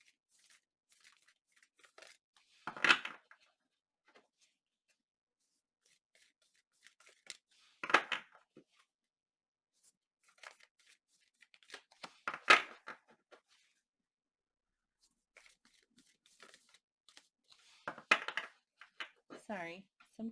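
Tarot cards being shuffled by hand in several separate bursts of riffling and snapping, spaced a few seconds apart, close and fairly quiet with near silence between them.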